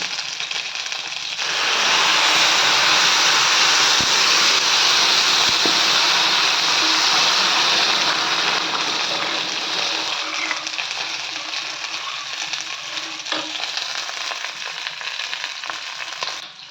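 A sudden loud burst of hissing sizzle erupts as water hits a hot pan, staying intense and steady before slowly easing off.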